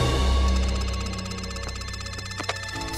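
A cartoon telephone rings in an animated holiday comedy scene, its repeated electronic tone sounding over a lingering musical backdrop for a few seconds, with no speech.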